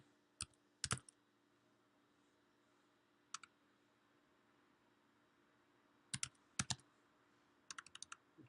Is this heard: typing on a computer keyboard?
yes